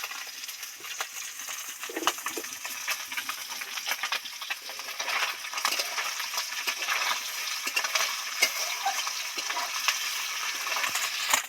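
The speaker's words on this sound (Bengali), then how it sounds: "টাটকা মাছটা ভাজছি" Small fresh roe-filled chuno fish shallow-frying in hot oil, a steady close crackling sizzle with scattered pops and spatters running throughout, no voices.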